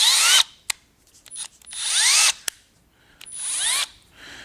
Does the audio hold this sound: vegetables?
no